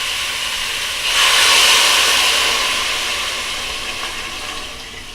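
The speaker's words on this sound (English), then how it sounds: "So the water that I'm going to put in, I'm cleaning out my blender. It has a little bit of basil in it, but I'll pour it in from here." Water with a little basil poured from a blender into a cooking pot for a Peruvian-style minestrone, a steady rushing splash that swells suddenly, holds, then slowly tapers off.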